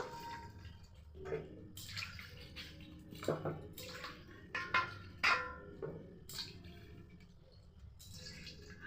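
Cut cauliflower florets washed in water in a kitchen, intermittent splashing, sloshing and dripping with occasional clinks of a bowl, close and fairly quiet.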